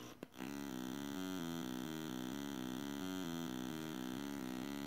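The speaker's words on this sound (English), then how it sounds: "And finally, a sine wave." After a brief click, a soft electronic sine-wave tone from an Arduino 8-bit synth loops a simple alternating note pattern, quiet and even, with a faint hum underneath.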